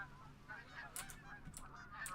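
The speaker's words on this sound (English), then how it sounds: "More Canada geese, I do believe" Canada geese honking in the hunting video game Revontuli Coast, set by a seaside village; several faint, scattered calls ring out over a steady low background rumble.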